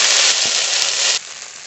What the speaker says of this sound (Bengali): পেঁয়াজটা একটু ভাজা ভাজা করে নিয়েছি এবার এই যে বেটে রেখেছিলাম মশলাটা দিয়ে দেব